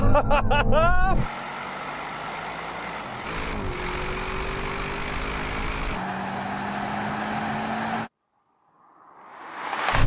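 An Audi RS7, a BMW M8 and a Mercedes-AMG GT63 launch in a drag race: a loud revving engine opens the clip, then sustained hard acceleration roars with gear shifts, ending abruptly before the sound swells again.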